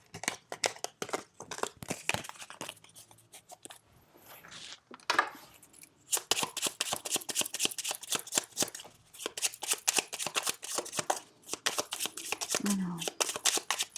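Lenormand oracle cards being shuffled in quick, dense riffling bursts, loud and close, with short pauses and a spoken word at the start.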